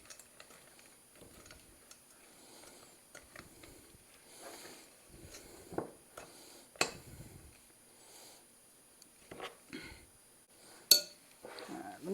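Cookie dough being stirred in a bowl, with scattered soft clinks and scrapes of a utensil against the bowl, quiet and irregular in a near-silent kitchen.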